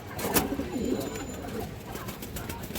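Soft pigeon coos rise from a flock kept for sale, including green-necked hens, mixed with faint rustling and a nearby murmur over a few seconds.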